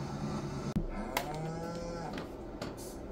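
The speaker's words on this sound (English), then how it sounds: "we got us some cows out here. Got us some Angus. We got some Limousine." Angus and Limousin cattle in the video game Farming Simulator 22 give a single drawn-out moo, quiet and somewhat distant over soft ambient farm background, with no talking.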